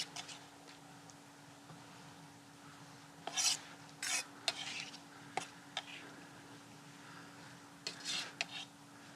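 Ember-roasted vegetables and onions being tossed and stirred into a salad, giving soft scraping and rustling strokes with a few sharper clinks and scrapes in bursts, fairly faint and close, with no talking.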